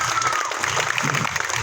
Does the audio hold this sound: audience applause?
yes